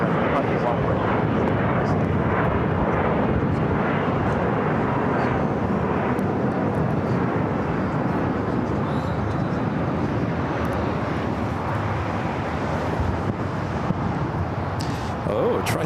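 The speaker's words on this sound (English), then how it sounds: "Next takeoff is JetBlue, flight 623, heading to Boston in an" JetBlue Airbus A321neo airliner taking off at LAX for Boston, a loud sustained broadband engine roar that holds steady throughout with a slight fade near the end.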